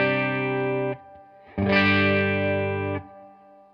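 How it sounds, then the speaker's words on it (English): Electric guitar driven through a classic DOD 250 overdrive pedal, two sustained distorted chords, the first held about a second, then a brief gap before a louder, brighter second chord rings out and stops. "This is the classic DOD 250."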